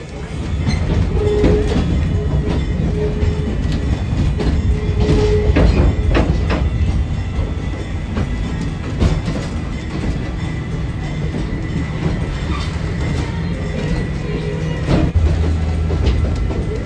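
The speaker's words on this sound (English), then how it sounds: "we are on the train and getting ready to go" Heritage train riding on rails at the Rochester & Genesee Valley Railroad Museum, a loud continuous rumble with wheel clatter and occasional squeaks, heard from on board.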